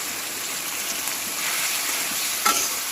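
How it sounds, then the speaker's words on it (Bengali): Onions fry in a pan with salt until browned, a constant close sizzle and crackle with light stirring and one brief scrape of a utensil near the end. "পেঁয়াজটা ব্রাউন কালার করে নেব"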